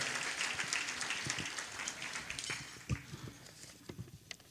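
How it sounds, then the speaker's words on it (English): Audience applause at a women's boxing hall of fame induction ceremony, a wash of clapping that fades over a few seconds into scattered individual claps and light room noise. "Give yourselves a real round of applause."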